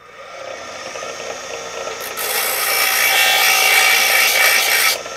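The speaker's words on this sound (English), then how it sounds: "You grind off the rough side of the dimple." A power grinder works the dimples on a handmade survival knife blade, a steady abrasive hiss that grows louder and harsher midway, then cuts back abruptly near the end.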